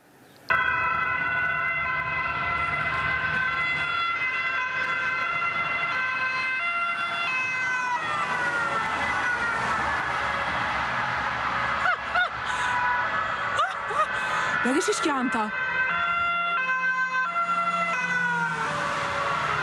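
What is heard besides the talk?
police car sirens during a car chase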